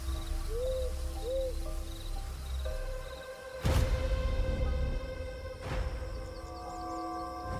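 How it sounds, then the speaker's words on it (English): A barred owl calls at night in a tropical hardwood hammock, its hooting standing out over a steady bed of insect and cricket trills, with a sharper burst partway through. "the unmistakable call of the barred owl echoes."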